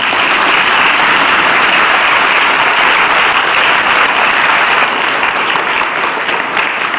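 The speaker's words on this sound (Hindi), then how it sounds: "और एक बार जोरदार ताली बजाएं अपने लिए।" An audience at a school gathering claps loudly and steadily, a dense wash of many hands that holds strong for several seconds before thinning slightly near the end.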